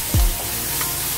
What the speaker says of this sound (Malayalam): ഇനി നമുക്കിതൊരു 2 മിനിറ്റ് നന്നായിട്ടൊന്ന് സോട്ട് ചെയ്യാം.